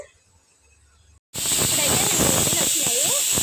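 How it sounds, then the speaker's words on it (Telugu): A pressure cooker of dal on a high flame releases a loud, steady rush of hissing steam that bursts in suddenly after near silence and keeps blasting, with a bright whistle tone riding on top. "ఇప్పుడైతే రెండు విజిల్ వచ్చినాయి ఇంకొక విజిల్ రెండు అయితే వచ్చేసినా"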